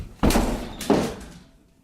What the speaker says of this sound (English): So now I have to try to break the door down at a place that we rent.